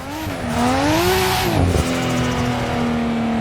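A turbocharged drift car in the Assetto Corsa simulator revs loud and close in its drifting range of about 3800 to 6000 rpm, the engine note rising and falling before holding steady amid a brief tire squeal.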